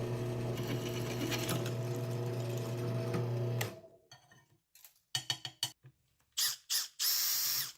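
A steady, loud mechanical whir of a drill boring holes in 1/4 inch steel plate, running continuously and then breaking into short bursts of drilling.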